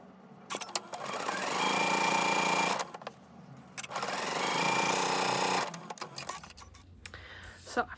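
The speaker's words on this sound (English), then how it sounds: "I'm going to sew directly on the line." A sewing machine stitches a diagonal seam along a drawn line across quilt pieces in two steady runs of a couple of seconds each, close and fairly loud, with a gap between and some faint handling afterward.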